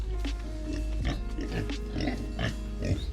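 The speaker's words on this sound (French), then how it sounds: "On a les cochons là." Pigs on a mountain cheese farm at 1500 m altitude grunt and squeal in a repeated, uneven series over a steady low hum, fairly close.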